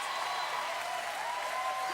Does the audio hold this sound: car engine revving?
no